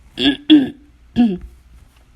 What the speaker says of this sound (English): I just need to clear my throat every once in a while